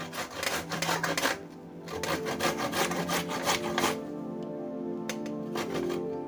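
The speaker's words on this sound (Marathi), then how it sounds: "हे आवळे आपण किसून घेणार आहे। हे बघा, असे आवळे किसून घ्यायचे।" Amla (Indian gooseberries) rubbed against a metal kitchen grater, a close, loud, continuous rasping scrape in quick repeated strokes that keeps going throughout, no talking.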